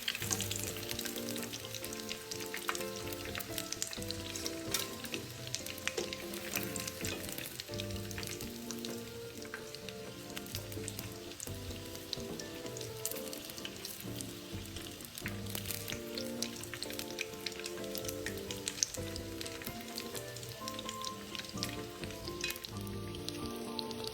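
Steady, dense sizzling of tofu batter deep-frying in hot oil, continuous throughout, with music playing underneath.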